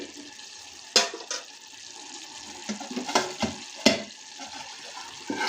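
Ridge gourd curry cooking in a pan, a soft simmering hiss broken by several sharp clinks and scrapes of a spoon stirring against the pan, close and moderately loud.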